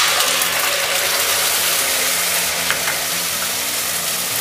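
Onions and curry leaves frying in a pan for egg masala curry, with a spice paste being added, give a steady, close broadband sizzle throughout, with a faint metallic clink near the middle.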